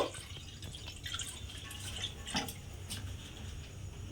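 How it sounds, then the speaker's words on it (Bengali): Water being poured into a kadai on a gas stove for boiling soaked white peas, a soft continuous splash and trickle with faint drips under a steady background hiss, no speech. "এবারে আমি কড়ার মধ্যে দিয়ে দেব জল কড়ার মধ্যে বেশ অনেকটা পরিমাণে জল আমি দিয়ে দেব"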